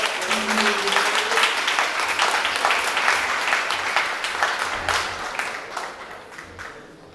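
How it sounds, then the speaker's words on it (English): A large audience at an Urban League anniversary awards event breaks into sustained, loud applause that gradually tapers off toward the end. "please, let's give her a great round of applause"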